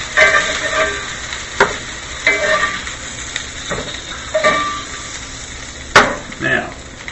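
Food is tipped into a pan of beans while cooking an Irish breakfast, with a low sizzle and scattered stirring and scraping scrapes, plus one sharp clink near the end.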